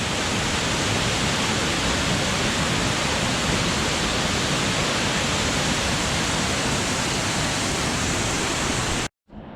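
Waterfall near Grizzly Creek, Colorado, a loud, steady full roar of falling water close by that continues unbroken before cutting out briefly near the end.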